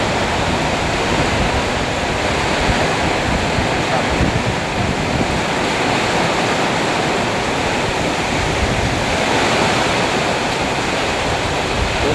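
Heavy rain pouring down, heard from inside a garage, a dense, loud and steady roar of broadband hiss and patter that holds without a break.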